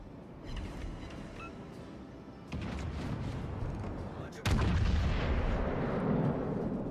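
Heavy naval guns fire in World of Warships: Legends, with deep booming salvos stepping up in loudness over a continuous low battle rumble.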